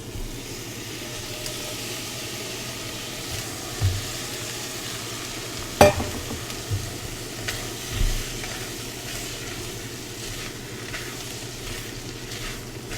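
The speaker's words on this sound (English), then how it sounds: "So now we're going to add in the lentils." Lentils tipped into a sizzling soup pot, a steady frying hiss throughout with a few soft knocks and a sharper clatter as they go in.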